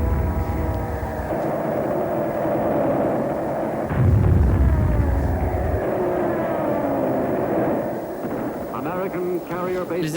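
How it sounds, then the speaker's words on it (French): American aircraft attack Japanese ships in the WWII Battle of Midway: a steady roar of aircraft engines with heavy low rumbling blasts, loudest near the middle, under a voice talking throughout. "les navires japonais manœuvraient désespérément pour échapper aux attaques des avions américains"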